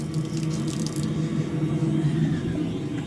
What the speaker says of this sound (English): And yeah, the water coming out is hot.